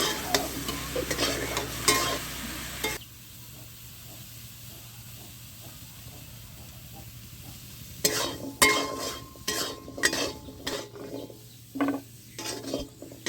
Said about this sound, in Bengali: একই কড়াইতে আমি সজনে ডাঁটাগুলো ভেজে তুলে নেব